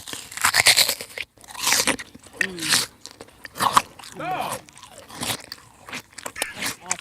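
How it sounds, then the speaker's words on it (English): Loud, crunchy chewing from an ASMR recording comes in repeated crisp bites and mastication bursts, while people react and talk over it. "Why do you chew like that?"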